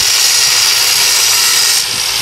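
A hammer drill bit pounding into concrete during home floor and wall work, a loud continuous rattling buzz, close and unbroken, with no talk.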